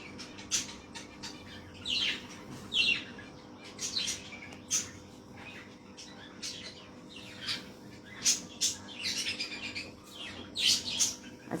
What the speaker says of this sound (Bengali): ছোট্ট ছোট্ট পাখিগুলো ওরা খুব একটা দুষ্টুমি করছে না আজকে